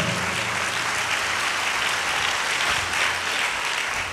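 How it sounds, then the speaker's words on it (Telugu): A church congregation claps loudly and continuously, a thick, even roar of many hands with no pause from start to finish. "గట్టిగా చప్పట్లు కొట్టాలి"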